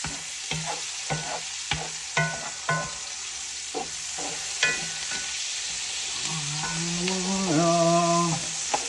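Sausage rice fries in a pan under a constant sizzle, while a utensil scrapes and taps against it in repeated stirring strokes, close and fairly loud, and a faint voice-like tone rises near the end.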